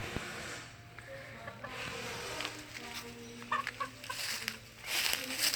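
Chickens cluck and murmur nearby in a quiet farmyard, with scattered soft calls and a few louder squawks toward the end.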